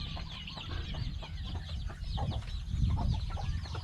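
Free-range backyard chickens kept in a garden cluck steadily and close by, overlapping soft calls in a continuous stream with a few louder bursts.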